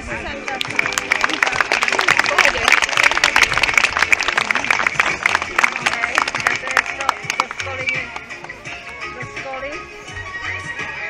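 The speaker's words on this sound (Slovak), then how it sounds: "Potvrďte ju potleskom." Audience applause at a horse riding show at Ranč Breziny, greeting a rider's horse preparation; dense, steady clapping from a crowd fills the whole stretch, easing slightly toward the end.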